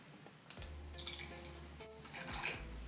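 Liquid sheet-mask serum from a Dr. Jart Shake & Shot packet squirts and splashes out in a faint, wet trickling stream up close, with a brief spluttering burst near the end.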